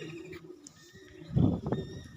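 Pigeons coo softly close around, a few low throaty calls at first swelling into a louder burst of cooing toward the end, with no talking.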